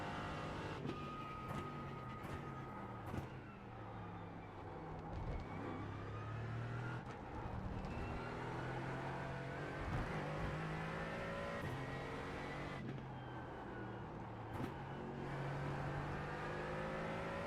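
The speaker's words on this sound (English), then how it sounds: "See some more LMPs coming through." LMP prototype race cars in a VR sim racing game at Fuji howl past with rising and falling engine pitch, several cars whining through in overlapping waves under a constant loud background drone.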